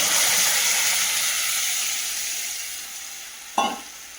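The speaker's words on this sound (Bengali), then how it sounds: "অনেকক্ষণ পেঁয়াজটাকে রসুনটাকে ভাজে নিয়েছি, এবার ডালটা দিয়ে দেবো।" Onion and garlic sizzle loudly as they fry in a pan, a steady hiss that fades slightly before a brief burst as lentils are added and stirred in near the end.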